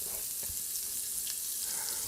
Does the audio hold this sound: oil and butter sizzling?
yes